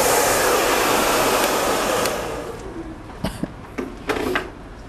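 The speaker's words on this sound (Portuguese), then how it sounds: "Ó, o secador." Hair dryer blowing loudly and steadily while a fringe is brushed and styled, then easing off as brush and handling knocks take over near the end.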